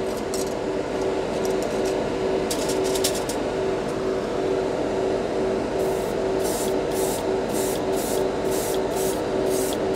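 Grex Tritium TG3 airbrush spraying Tamiya X14 sky blue paint, producing a steady close-up airy hiss with a faint tonal whine, broken by short bursts of sharper spraying in the second half.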